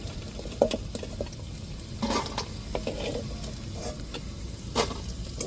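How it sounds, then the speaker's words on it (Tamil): Prawns frying in hot oil give a soft, continuous sizzle with scattered crackles and stirring scrapes, at moderate level and close by. "இப்படி எல்லா ராலையும் நம்ம கொஞ்சம் கொஞ்சமாக அப்படியே போட்டு எடுத்துவோம்"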